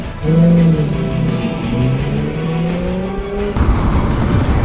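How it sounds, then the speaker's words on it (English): A car in a Fast and the Furious scene tears away with a loud tire squeal and rising engine roar, sustained and close, with no talk. "Dom jumps in the car and heads off along Terminal Way and proceeds onto Ferry Street"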